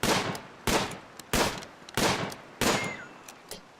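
Gunfire aimed at small animals in RimWorld: five evenly spaced sharp shots at a measured rhythm, each with a short decaying tail.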